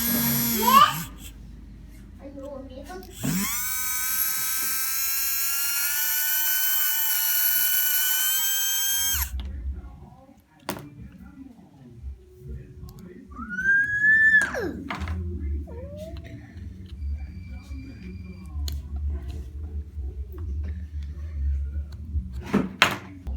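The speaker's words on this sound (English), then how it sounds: "After cleaning the motor and oiling, you can see the difference of the motor noise." A cleaned and oiled windshield washer fluid pump motor runs in a loud, steady high whine for several seconds, then stops, followed by quieter handling noises and scattered clicks.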